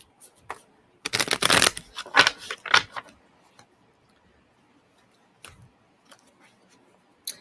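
Oracle message cards are shuffled close by in one long riffling burst followed by a few shorter flicks and taps, then scattered faint card sounds amid quiet.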